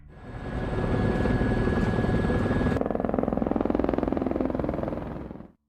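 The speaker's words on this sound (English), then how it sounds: "they hop onto the helicopter they rented" A helicopter roars steadily nearby, the rotor chop thumping rhythmically under a loud engine whine, then cuts off abruptly at the end.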